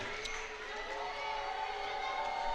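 A crowd applauds as a player leaves the court during a French basketball cup quarter-final, a steady spread of clapping and murmur from the stands, fairly loud and continuous from start to finish.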